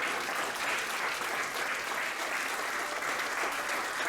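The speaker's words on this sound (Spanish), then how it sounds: "Denle una ofrenda de palmas al Señor." A church congregation gives a sustained round of applause as an offering to God, thick continuous clapping filling the room at an even, loud level throughout, with no voices rising above it.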